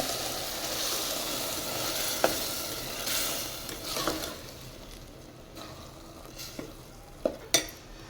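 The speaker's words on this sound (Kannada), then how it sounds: "ಈ ಟೈಮಲ್ಲಿ ರುಬ್ಬಿರೋ ಮಸಾಲೆನ ಹಾಕಿ ಹಸಿ ವಾಸನೆ ಹೋಗೋವರೆಗೂ ಫ್ರೈ ಮಾಡಬೇಕು" Ground masala sizzling and frying with frozen peas in a pan, a soft steady crackle broken by a few sharp stirring scrapes and clinks of a spoon against the pan.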